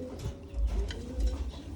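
Pigeons, including Jansen and Morris Gordon racing birds, cooing softly in a loft, with low rhythmic coos repeating over a faint background hum.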